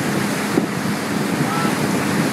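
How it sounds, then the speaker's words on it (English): Ocean waves break at a surf spot, a dense, steady roar of surf with wind buffeting the microphone throughout. "Here comes the waves."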